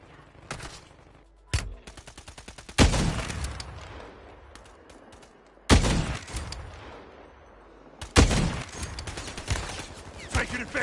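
Gunfire in the video game Modern Warfare 3, with bursts of rapid automatic fire and several heavy, loud single shots that ring out and fade, spread across the clip.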